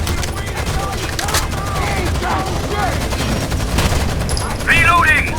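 Dense automatic and single-shot gunfire from a squad firing in Rainbow Six Vegas, in a Nevada dam mission, crackles steadily throughout with shouted voices and bursts layered over the shots, swelling louder near the end.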